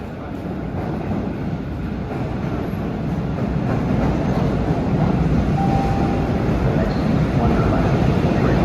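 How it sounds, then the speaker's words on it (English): MBTA Blue Line subway train bound for Bowdoin pulls into Maverick station in East Boston, its rumble swelling steadily louder over the whole stretch. "Here we have a Bowdoin train arriving at Maverick."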